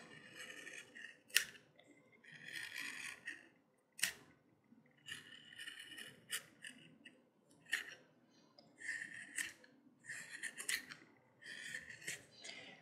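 A hand skiving tool scraping thin layers from leather, making quiet, close, repeated rasping strokes in short bursts with brief sharp clicks between them.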